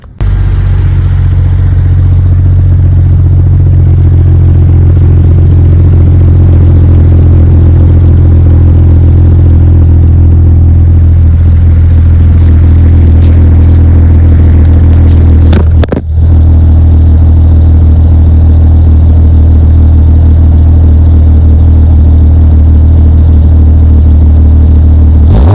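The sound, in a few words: 1998 Jeep XJ engine idling with new 2.5-inch exhaust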